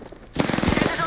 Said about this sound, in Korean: 놈들이 날 쏘고 있어.